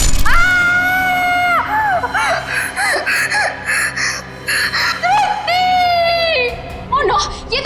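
A woman screams in terror in several long, high-pitched wailing cries broken by short gasps and sobs, close and loud over a low background drone.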